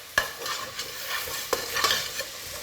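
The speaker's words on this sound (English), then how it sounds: "let's give these a little bit of a stir" Vegetables sweating in a pot for bacon and lentil soup are stirred with a utensil, giving a soft steady sizzle broken by a few sharp scraping knocks against the pot, close and alone with no voices.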